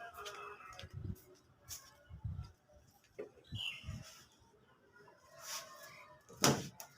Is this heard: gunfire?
no